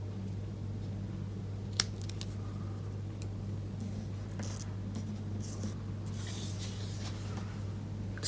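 Scissors snip a tiny mini dimensional adhesive foam pad in half while making a penguin greeting card, a single short cut over a steady background hum, with faint handling rustles around it.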